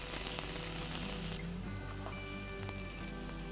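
Ginger, garlic and asafoetida sauteing in a hot pan, a bright steady sizzle that drops slightly in intensity partway through, with faint stirring underneath.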